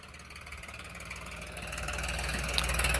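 A New Holland 3032 TX tractor fitted with a new silencer runs steadily with a low diesel throb and rises gradually in loudness as it is revved, heard alone and close.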